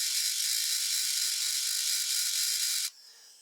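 A Dremel rotary tool grinds steadily with a burr while polishing rock, a high, even whine that holds for nearly three seconds and then stops abruptly, leaving a faint hum.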